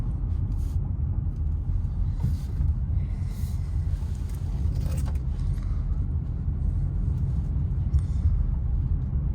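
A 2020 Honda CR-V EX-L AWD rounds a roundabout, heard from inside the cabin as a steady, even low road and engine rumble with faint scattered clicks and no voices.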